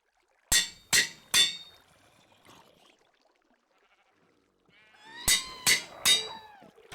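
Bleating from a mob farm in a block-building game: three quick sheep-like bleats up close, a quiet gap, then another run of three bleats.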